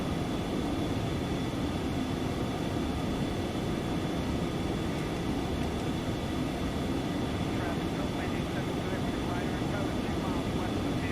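An airplane engine in the X-Plane 11 flight simulator drones loudly at a steady level throughout, never letting up.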